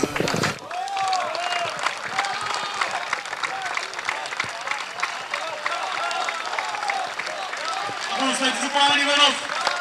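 Audience applause at a medal presentation for the most talented player of the 2011 Ariana amateur league tournament, dense sustained clapping throughout with crowd noise and voices mixed in.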